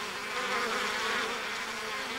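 Honey bees crowd and buzz over wooden hive frames of wax comb, a dense, steady hum with a bright, fluttering texture that holds at an even level throughout, close by and with no other sounds.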